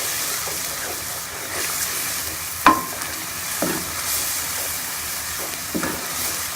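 Spices are stir-fried in a pan for a dhaba-style egg curry: a soft, steady sizzle with occasional scraping stirs and one sharp clink near the middle.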